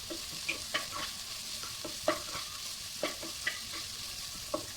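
Shallots and green chillies sautéing in a pan, a quiet steady frying crackle broken by several soft scraping stirs at irregular intervals, with no talk.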